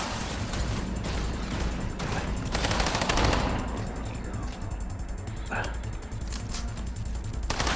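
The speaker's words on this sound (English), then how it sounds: "Say hello to submachine gun pest." A submachine gun fires in bursts in System Shock (2024), giving rapid, crackling volleys over steady, dense background noise, with a few sharper shots toward the end.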